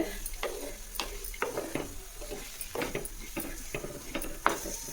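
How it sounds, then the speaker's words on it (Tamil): Grated coconut sautéed over a low flame in a pan, giving a soft steady sizzle with repeated scraping stir strokes and light clinks of a spoon against the metal. "இதெல்லாம் கம்மி தீயில் வச்சு வதக்குங்க"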